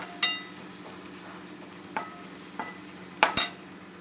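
A spoon stirring spices into a carrot, cauliflower, potato and pea sabji in a pan, giving a few scattered scrapes and clinks over a faint, steady sizzle, close by and without talk.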